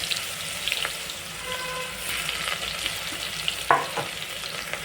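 Onions and green chillies fry in oil inside a pressure cooker with a steady close sizzle and crackle, and a brief clank of stirring comes near the end.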